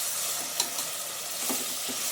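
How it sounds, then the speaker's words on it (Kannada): Onion and tomato frying in oil for a chickpea masala curry, a steady soft sizzle with a few faint stirring scrapes, no voices. "ಇದು ಸ್ವಲ್ಪ ಫ್ರೈ ಆಗಬೇಕು."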